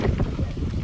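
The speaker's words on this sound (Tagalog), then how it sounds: "Ayan, ang lakas ng hangin, no?" Strong outdoor wind buffets the microphone in a garden, a brief low roaring gust with no other clear sound.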